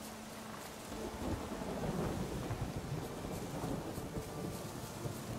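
Steady rain pours with low rolling thunder in The Witcher 3, a dense continuous hiss that swells slightly after the first second and holds, with no talking.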